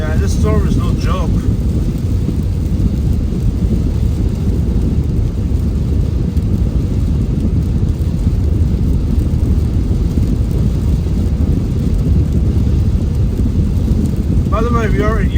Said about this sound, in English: this storm is no joke